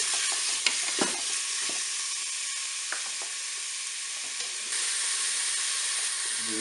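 Filet mignon sears on all sides in oil inside a Cookeo multicooker, a soft, steady sizzling hiss with occasional light clicks and taps from turning the meat.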